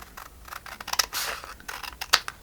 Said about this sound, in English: So what I'm going to do is cut this one off right here